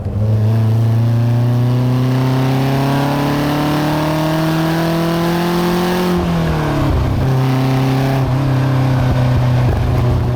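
A 1972 Lotus Europa Special's engine drones loudly and steadily from inside the cabin, pitch climbing slowly, then dipping as gears change before building again.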